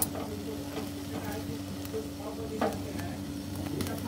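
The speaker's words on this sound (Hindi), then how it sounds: "मैं तो इसे हाथों से घुमाते हुए पका रही हूँ" Tomatoes for chutney sizzling steadily in a pan while being turned by hand, a close continuous fry with soft stirring shuffles and a few sharper crackles, with no talk.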